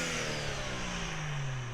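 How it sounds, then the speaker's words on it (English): A car engine revs steadily at close range, a rising mechanical drone with a smooth, sustained tone and no voices over it. "we might as well rev it a little bit"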